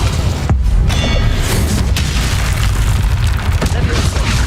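An Incendio fire spell cast in Hogwarts Legacy gives a loud booming burst, a dense fiery rumble filling the short stretch, with a sharper hit partway through and gameplay noise around it.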